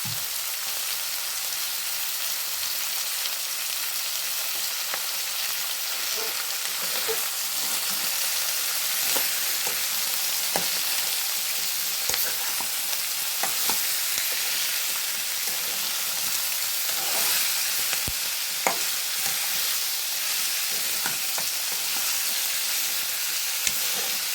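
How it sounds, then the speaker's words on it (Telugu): Brinjal pieces sizzle steadily in hot oil in a pan, a loud continuous frying hiss broken by occasional scrapes and taps of stirring, with no voices. "ఈ వంకాయ అనేది వేసేద్దాం ఇది కొంచెం మగ్గినాక అప్పుడు టమాటాలు వేద్దాం"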